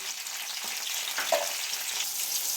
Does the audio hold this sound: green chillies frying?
yes